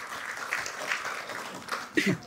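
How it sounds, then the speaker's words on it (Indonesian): Audience applause at a talk-show panel discussion, a short wash of clapping mixed with talking voices, swelling briefly near the end. "kita berikan tepuk tangan"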